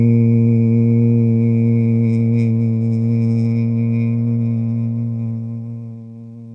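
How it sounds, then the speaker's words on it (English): A long, steady hum carried on an outgoing breath lasts over six seconds at an even pitch and fades slightly at the end, close and loud with no talking, as part of a slow breathing exercise. "You could hum as long as you could, letting your breath out."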